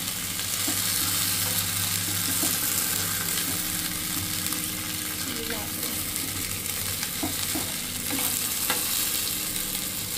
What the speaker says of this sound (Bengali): 15 মিনিট ধরে ভাজবো।